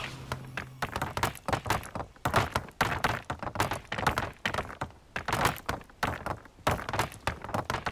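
Repeated casting of the Levioso spell in the Hogwarts Legacy video game, a dense series of loud thumping, cracking impacts in quick uneven bursts, with no speech.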